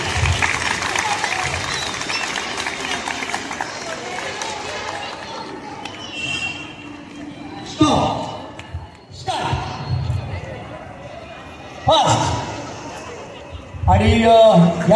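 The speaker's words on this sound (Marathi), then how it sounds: "टाळ्या जरा वाजवून जरा जोरदार तुम्ही पण टाळ्या त्यांच्यासाठी वाजवा" An audience at a women's Paithani prize game contest claps in a dense burst for about six seconds. A loud voice then speaks over the quieter hall, with a few short bursts of crowd noise.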